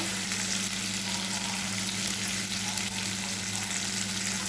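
Cumin seeds frying in hot oil for a prawn and taro curry, a steady dense sizzle with a constant low hum underneath, close and continuous throughout.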